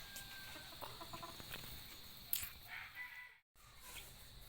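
Brahma chickens cluck softly and intermittently in a quiet farmyard, with a few sharper calls and distant fowl sounds in the background, and no one speaks.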